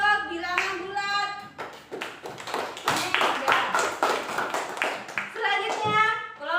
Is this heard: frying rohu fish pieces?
no